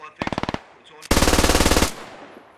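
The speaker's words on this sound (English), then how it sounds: "That's just suppressive fire." Suppressive machine gun fire in the tactical shooter game Squad: a short burst of about seven rapid shots, a pause, then a longer, louder sustained burst of rapid fire, close and dominant with no talk.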